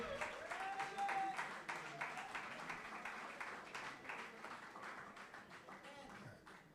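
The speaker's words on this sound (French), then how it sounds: "On peut l'applaudir, s'il vous plaît." A crowd claps steadily and densely for several seconds, the applause fading slightly toward the end.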